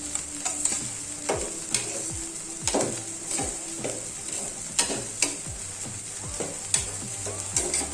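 Turkey berries simmering in a pan with turmeric give off a steady sizzle, with stirring scrapes and knocks recurring every second or so, no voices.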